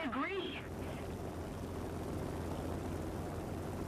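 Ju-52 aircraft engines droning in a flight combat video game, a steady low propeller hum under a brief sweeping whine at the start, moderately loud and continuous.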